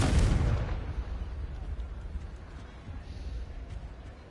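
A boom bursts out at the start, then a low rumbling tail fades over a few seconds. It is the Confringo blasting spell going off in a video game, fairly quiet overall.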